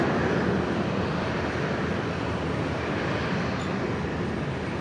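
A jet aircraft departs Brisbane International Airport with a loud, continuous broadband engine roar that holds steady throughout, heard from nearby with no talking.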